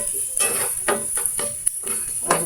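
Onion sautéing in a home kitchen pan, a steady sizzle broken by repeated scraping strokes of a utensil stirring against the metal at a brisk, uneven rhythm.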